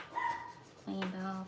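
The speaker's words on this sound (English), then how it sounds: "That is my dog that's 15 that's barking" A 15-year-old dog gives two drawn-out, whiny barks, fairly close, while someone talks over them at a home crafting table.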